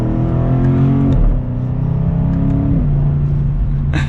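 A 2022 BMW M850i xDrive Gran Coupe heard from inside while driving: a loud, steady engine drone whose pitch drops twice as it shifts up, with road rumble underneath.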